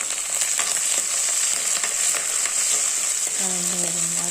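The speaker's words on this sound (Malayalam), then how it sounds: "എന്നിട്ട് നമുക്ക് ഉള്ളിയും പച്ചമുളകും ഉണ്ടമുളകും എല്ലാം കൂടെ ചേർക്കണം. ചേർത്ത് ഇളക്കി" Onions and green chilies fry in a pan with oil, giving a loud, continuous sizzle with a few scraping stirs. A faint tonal hum rises near the end.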